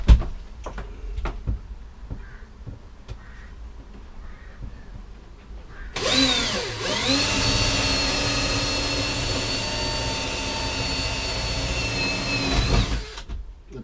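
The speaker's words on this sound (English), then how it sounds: "I'm going to try to use the drill and drill out the corners" A power drill whirs steadily for about eight seconds at close range, drilling out the corners of a plate on a boat, its pitch dipping briefly under load, after quiet tapping and handling noises.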